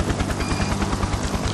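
Helicopter in the naval strategy game Naval War: Arctic Circle, a steady rapid rotor chop with low pulsing thumps running continuously at close, even loudness with no voices.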